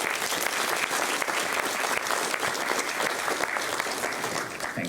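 A crowd at a school awards ceremony gives student leaders a loud, sustained round of clapping, even and unbroken throughout.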